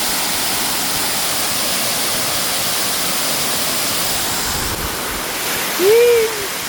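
Awao Falls pours in a steady, full rush of water, a broad continuous roar that dominates the scene, with a brief faint rising tone near the end.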